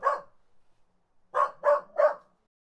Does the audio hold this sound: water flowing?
no